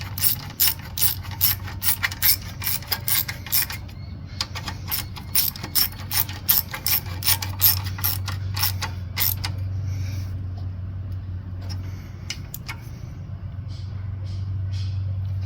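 A ratchet fitted with a 3/8 socket tightens a new bolt on a Briggs & Stratton engine's intake manifold, clicking in rapid, close bursts of pawl ticks that slow and grow sparser over a steady low hum.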